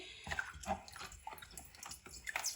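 Okra pods being washed and rubbed by hand in a bowl of salted water, giving steady splashing and dripping close up with no talking.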